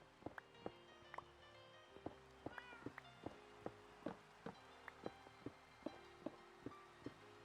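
A video game cat meows again and again in short, evenly spaced cries, fairly quiet, over a soft steady background of rain.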